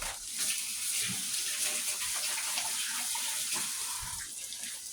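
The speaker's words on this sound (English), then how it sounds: "let me wash my hands" Water from a tap runs steadily into a sink during hand washing, a close, constant splashing rush with no talking.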